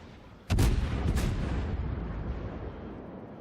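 Gunfire in a video game: two loud, close shots about half a second apart, each followed by a long booming decay that fades slowly.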